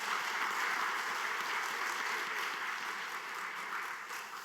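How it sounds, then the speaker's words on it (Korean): A congregation at a church's 50th-anniversary evening revival meeting applauds Pastor Kim Deok-sin, a steady, even sheet of clapping that tapers off slightly at the end. "김덕신 목사님께 감사의 박수하겠습니다."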